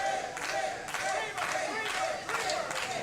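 Wrestling crowd at a Rampage Pro Wrestling NWA show cheers for Officer Chris Jacobs during his match with Charlie Dreamer, a steady roar of many voices that swells in repeated surges over about three seconds.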